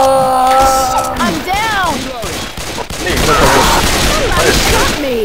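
Loud rapid gunfire from the Left 4 Dead 2 video game rattles on in bursts alongside tonal game effects, while a voice shouts over the shooting.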